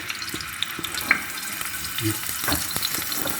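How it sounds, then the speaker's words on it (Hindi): Hot dog sausages frying in a little oil in a frying pan: a steady, close hiss and sizzle with faint crackles and a few utensil clinks, and no talking. "फ्राई पैन मेरा रखा हुआ है। अब इसके अंदर हम इनको थोड़ा थोड़ा सा फ्राई कर लेंगे।"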